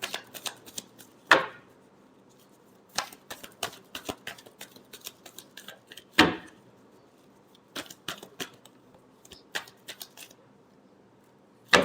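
Tarot cards being shuffled by hand, with sharp riffle bursts at intervals between softer snapping and tapping of the deck, close and clear with no talking.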